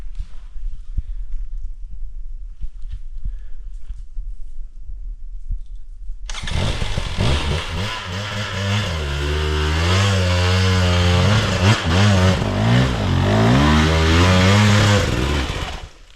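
After a quiet stretch, a 2017 KTM 300 dirt bike engine bursts to life and revs hard with a loud, buzzing rasp, rising and falling as the throttle is worked.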